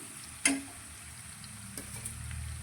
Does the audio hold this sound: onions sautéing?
yes